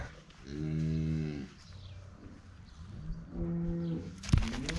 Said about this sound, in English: we had to take time out to check the cows real quick